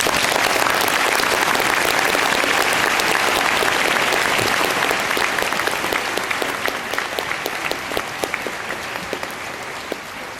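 A graduation audience claps loudly in a dense, sustained wave of applause that fills the room, then slowly thins and fades toward the end.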